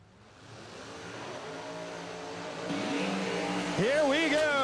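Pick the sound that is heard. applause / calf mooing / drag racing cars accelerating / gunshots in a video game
drag racing cars accelerating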